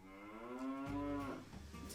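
Dairy cows on a Mennonite farm let out a long, rich moo that rises and swells in the middle, with faint farmyard noise around it and no talking.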